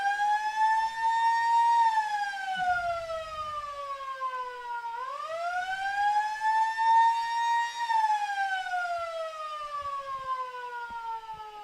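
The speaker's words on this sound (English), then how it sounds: "those sirens are very, very loud indeed" A loud siren wails across Fremantle Oval at a community football grand final, a single sustained tone that rises and falls in long slow sweeps, clear and alone with only faint background noise.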